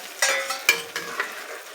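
Hot oil tempering sizzles and crackles close up as it is stirred into chana dal, with a few sharp bursts over a steady fry.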